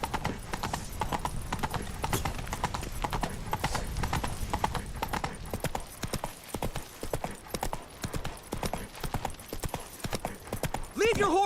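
Horse hooves clip-clop in a steady galloping rhythm throughout, with shouting voices over it, from a horse in the Witcher 3 video game.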